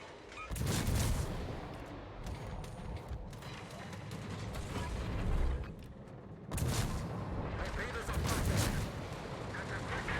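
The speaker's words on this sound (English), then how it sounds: "we can use their smoke to get a couple more volleys in" Heavy warship gun volleys in World of Warships from a German cruiser Konigsberg, two loud booming salvos with rumbling tails several seconds apart, someone talking over the battle noise.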